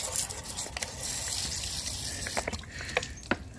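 Water sprays in a steady broadband hiss onto a motorcycle radiator's air passages after its guard is removed, close and fairly loud with brief splashy bursts as the stream shifts, no hose used.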